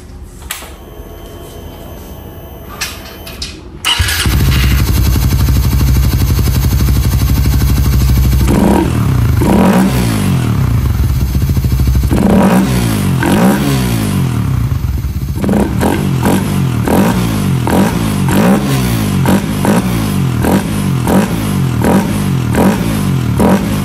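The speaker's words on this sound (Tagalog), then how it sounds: "sound check na natin yung ating ram air" After a few seconds of quiet rattling, a Suzuki Raider 150 Fi motorcycle engine fitted with a ram air filter fires up loud and close, idling roughly and then revving repeatedly with rising and falling pitch.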